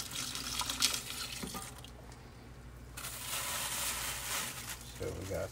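Water runs over rocks and pebbles in an aquarium tank being aquascaped with hardware-store stone, a continuous faint splashing and trickling rush close by, with someone talking quietly over it.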